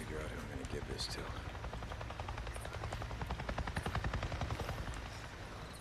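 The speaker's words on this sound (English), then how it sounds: "I just saw a goddamn chopper!" Rapid rhythmic rotor thumping of a helicopter in the video game Days Gone builds and grows louder, with a voice speaking over it.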